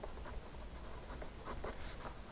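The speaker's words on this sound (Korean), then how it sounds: "제가 아무것도 없는 거에다 지금 쓴다고 했을 때" Pen writing on paper laid over a Bamboo Slate smart pad, close, soft scratchy strokes in short, uneven bursts against a steady low background.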